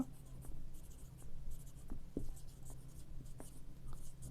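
Pen or pencil writing by hand on paper during a math lesson, soft scratchy strokes in short bursts, faint and close, over a low steady background hum.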